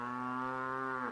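A mother cow nursing her calf lets out a single long, deep moo, close and loud, holding steady for about a second before rising slightly at the end, with no talking over it.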